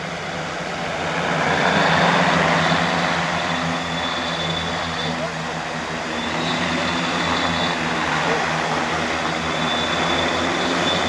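A GLF agricultural spray drone flies over a field, its rotors giving a steady, loud droning buzz that swells slightly and holds for about eleven seconds without any voices.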